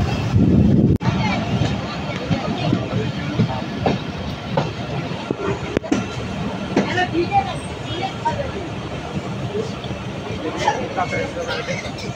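A local passenger mail train rolls along the rails into a station, a continuous rumble with clickety-clack rhythm heard from inside, while a voice talks over it.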